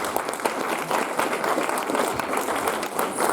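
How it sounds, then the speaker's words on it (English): An audience at a community event inauguration and new year celebration claps steadily for a few seconds, a moderately loud, even wash of applause without any talk. "a big round of applause for my friends."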